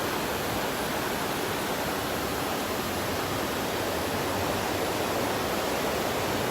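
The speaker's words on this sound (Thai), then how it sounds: "อันนี้น้ำไหลออกจากถ้ำได้นี่" Water flowing out of a cave: a loud, continuous rushing roar with no change in intensity and no voices.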